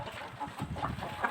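A brief, soft stretch of hens clucking near feeding time, low and close with no talk over it.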